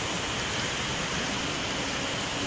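Heavy rain pours down outside a store, a dense, steady, loud hiss that stays even throughout with no voices.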